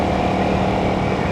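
A 2024 Honda CRF 300L motorcycle with its stock exhaust drones loud and close while riding, a dense continuous engine rumble with steady pulsing.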